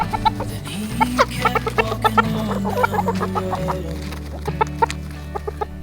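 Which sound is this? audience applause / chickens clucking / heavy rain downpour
chickens clucking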